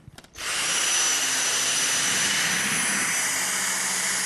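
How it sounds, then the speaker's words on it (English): A Dyson DC59 cordless vacuum cleaner with a V6 motor, two-tier cyclones and carbon fibre bristles starts up after a brief click, then holds a steady, loud, high-pitched whine as it runs on a hard floor, with no talking. "the combination of the V6 motor, the two-tier cyclones and the carbon fibre bristles means we can achieve really effective fine dust pickup on hard floors"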